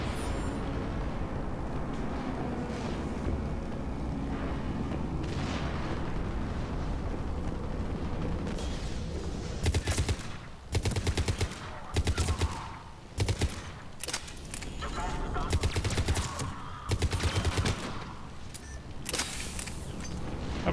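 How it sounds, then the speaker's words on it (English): Mass Effect 3 firefight, rapid bursts of automatic gunfire and heavy blasts in irregular clusters over a rumbling game soundscape, loud and close, growing denser in the second half. "How very Paragon of me to shoot those guys in the back as they run away."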